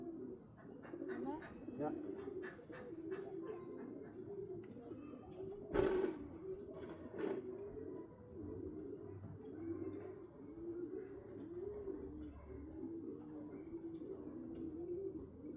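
Racing pigeons coo steadily in rolling, repeated phrases at a young bird race in Wetherby, filling the background with a low warbling chorus while a person speaks briefly nearby.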